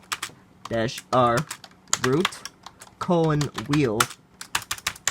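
Rapid keystrokes on a computer keyboard as a command is typed on a Dell Dimension E310 desktop, crisp clicks in quick bursts around and between a person's speech.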